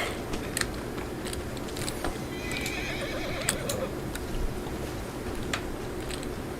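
A horse whinnies loudly in a video game, with a few hoof clops and light thuds around it against a steady background.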